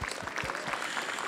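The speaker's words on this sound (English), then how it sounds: "Round of applause for JVS and John." Applause from a keynote pre-show audience, a dense, even burst of many hands clapping, heard briefly at moderate volume.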